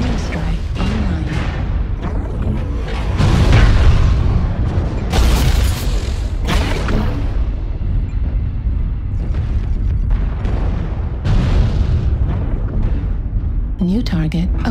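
Airstrike explosions pound the battlefield in MechWarrior Online, a string of heavy booms and rumbling blasts that repeat over about fifteen seconds, with mechanical clanks and occasional voice callouts mixed in.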